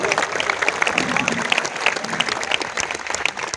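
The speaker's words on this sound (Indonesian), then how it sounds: "Tepuk tangan buat orang Cirebon." Audience at an Islamic gathering marking a majelis anniversary and Isra Mi'raj applauds a man from Cirebon, with dense, steady clapping that holds at full strength throughout.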